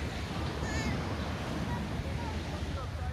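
Evening surf washes onto the beach at Kuşadası. The waves make a steady, broad rushing wash, with wind buffeting the microphone.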